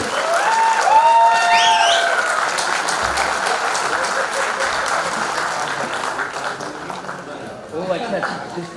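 Audience at a school reunion silver jubilee event breaking into loud applause for organisers, a steady dense round of clapping with a few whistles early on, slowly fading, with voices talking faintly underneath.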